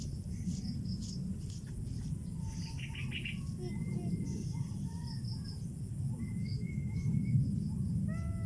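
Birds chirping and calling around a pigeon training session, with scattered short tweets and whistled calls over a constant low rumble of background noise.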